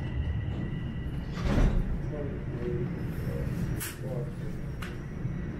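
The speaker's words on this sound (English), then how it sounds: "Doors will open on the left." Toronto Line 4 Sheppard subway train doors sliding open with a whoosh and clunk at a station, followed by a chime over steady train rumble, moderately loud.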